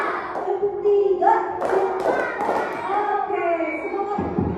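Schoolchildren in a class activity clap in short group bursts on a teacher's counted command, uneven thuds and taps mixed with a voice and children's chatter.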